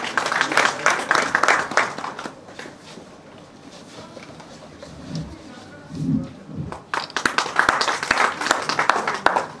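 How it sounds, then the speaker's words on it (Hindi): Applause from an audience for a guest at a women's college event in Baramulla, dense clapping at the start, fading to a quieter lull with a low voice, then swelling again loudly at the end. "पुरजोर तालियां हो इनके लिए"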